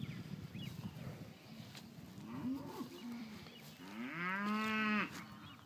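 Bulls at a cattle sale low and moo, with a long, deep, rising bellow near the end over a murmuring pen background, fairly close and loud.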